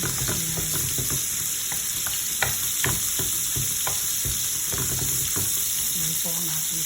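Steak frying in butter and garlic in a pan, a loud, steady crackling sizzle with intermittent scraping and clicking from turning or stirring, close up and without talk.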